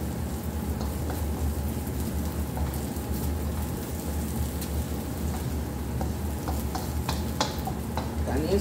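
Minced meat and onion frying together in a pan give a steady, close sizzle, with soft scraping and stirring running through the whole stretch and no one talking.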